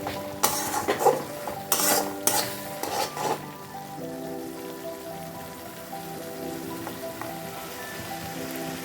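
A spatula stirs and scrapes through sizzling spice paste in a pan over low flame, several quick strokes at first, then a steady frying hiss underneath.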